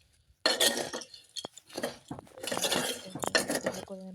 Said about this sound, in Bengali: নাড়া দিয়ে ভালো করে মিক্স করে নিচ্ছি।